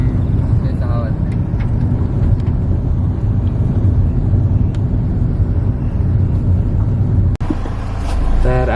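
A car drives along a narrow forest road near Keri in South Goa, its engine giving a steady close rumble throughout, broken by a sharp knock near the end, while people talk inside.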